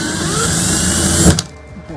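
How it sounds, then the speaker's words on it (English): A power drill pre-drills a pilot hole for a drawer slide screw, giving a steady whirring drone for over a second before it cuts off abruptly, leaving a quieter room. "you always want to pre-drill before you screw it in"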